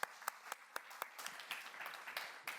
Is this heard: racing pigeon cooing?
no